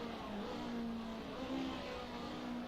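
A GT3 race car at Macau in Assetto Corsa engine-brakes into a corner, its engine note holding a steady droning pitch that dips and shifts through downshifts. The sound is moderately loud and continuous.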